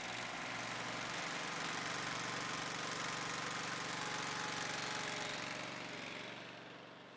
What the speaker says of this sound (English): When the light goes out, you can start the engine.